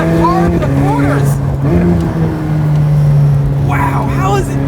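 A McLaren 765LT Spider engine growls loudly from inside the car, with rising and falling revs from downshifts and a few crackling pops. A person talks over it throughout.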